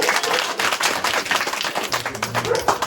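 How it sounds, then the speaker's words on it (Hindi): An audience claps at a community gathering, a dense burst of close, fairly loud applause with a voice faintly present underneath. "उनके लिए एक बार तालियां बजाओ"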